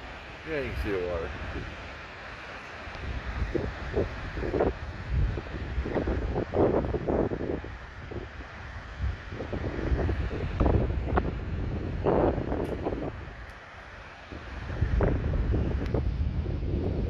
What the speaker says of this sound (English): Hopefully you can hear me over the sound of the wind